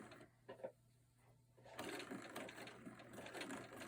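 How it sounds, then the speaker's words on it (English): A sewing machine stitching raw-edged fusible appliqué, starting with a few short bursts and then running steadily at a close, moderate level with a fast mechanical whir. "And I just continue to sew along."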